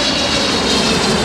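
Philippine Airlines Boeing 777-300ER with GE90 engines landing at Vancouver airport, its jet roar loud, close and constant, filling the moment with no talk.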